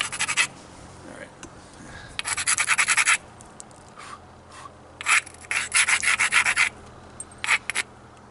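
Georgetown flint being abraded at a sharp striking platform during flintknapping, heard as loud, close, bursty gritty scraping strokes in several rapid runs with short pauses between.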